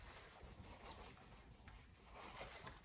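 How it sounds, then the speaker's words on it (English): Writing being rubbed out on a board in a phonics lesson, a quiet, soft scuffing and wiping with a small sharp tap near the end. "Going to rub it out now."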